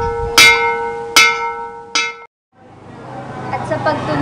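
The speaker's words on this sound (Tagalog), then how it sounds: "At sa pagtunog ng kampana" A bell in an Adventure Time cartoon rings three times in an even rhythm, each loud metallic strike ringing out with a long shimmering tail. A short silence follows, then a rising hiss of background noise.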